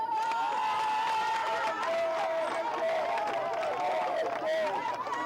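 Applause and cheering from a studio audience on a French-language television show, with loud, dense crowd noise throughout and a sustained tone running beneath it.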